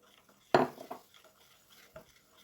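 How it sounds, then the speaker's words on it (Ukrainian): A spoon clinks and scrapes against a bowl in a short burst of stirring an egg and salt mixture, then a couple of fainter taps follow. "І розмішую все ложкою більш-менш до однорідності."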